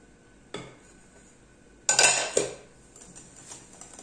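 Almond powder is whisked into frangipane in a bowl. Quiet clinks and a couple of short scraping bursts of the whisk against the bowl stand out over a low background.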